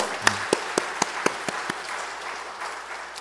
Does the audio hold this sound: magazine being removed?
no